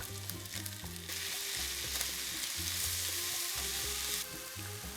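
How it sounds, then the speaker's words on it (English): Chopped onion and garlic sizzle loudly alongside browned, drained ground beef in a hot pan, a continuous close frying hiss with occasional stirring, heard alone without talk under a faint low background hum. "We have browned and drained our ground beef. Now it's time to add our chopped onion."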